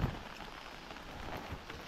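Rain falls steadily in the Konkan countryside near rice paddies, a soft, even hiss of drops with no pauses, faint and continuous throughout.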